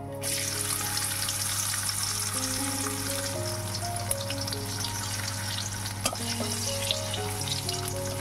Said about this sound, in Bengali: এবার এর মধ্যে গোটা গরম মশলা দিয়ে দেবো।